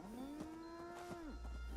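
Cows mooing in the video game Fallout 76, one long, clear, drawn-out low moo close by, ending in a short falling tail, with no speech.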